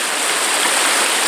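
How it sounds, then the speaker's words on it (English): Flowing water of the River Adur at Coombes, a steady broadband rush of a shallow stream running close by, continuous and fairly loud with no voices. "by being in the river, I can clean my wellies at the same time. So that's quite nice, especially by this flowing water"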